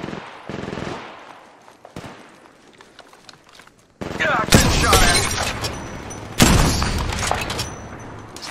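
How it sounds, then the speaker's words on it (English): Gunfire in Apex Legends Mobile: sparse single shots at first, then loud, dense automatic bursts and heavy booming impacts that roll on continuously in the second half, with in-game voice callouts mixed in. "Shots fired, and they're hitting me."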